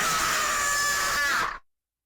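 A witch screams in pain as a horror story sound effect. A loud, shrill, sustained shriek holds for about a second and a half, then cuts off abruptly into silence.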